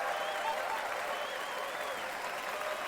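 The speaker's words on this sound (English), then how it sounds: "Give a round of applause again for Spoopy." Steady applause from a late-night show audience, continuous and even throughout, with a crowd texture and faint voices mixed in.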